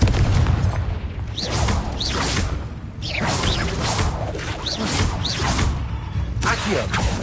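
Confringo explosion spell cast in a Harry Potter video game, heard as loud repeated booming blasts with swooshing bursts, layered densely and continuously throughout.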